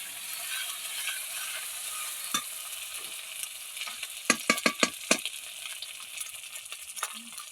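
Onions frying with spices in a pan give a steady broadband sizzle, with a cluster of sharp scraping stirs and clinks near the middle and a few lighter taps later on.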